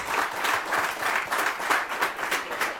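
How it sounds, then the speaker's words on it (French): An audience at a startup demo day applauds with dense, steady clapping that swells in gentle waves, fairly close. "J'ai envie de vous demander d'applaudir Arnaud et Patrick"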